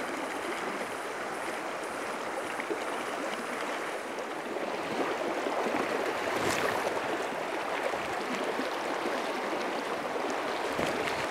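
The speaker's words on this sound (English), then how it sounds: "Big eddies either side of where the flowing water is." The Leven River in Tasmania flows steadily with a broad, continuous rushing hiss of moving water and eddies, close by and unbroken for the whole stretch, with no one speaking.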